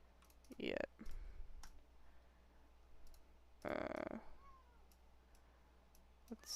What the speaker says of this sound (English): my cat is in my room. Can you guys hear him?